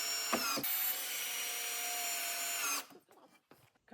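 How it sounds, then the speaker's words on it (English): A power drill whines steadily as it drives a self-tapping screw through a slat into a wooden beginner workbench frame. The whine is loud and close for nearly three seconds, then stops abruptly, and a few light knocks follow. "I attach them from the outside with the self-tapping screws."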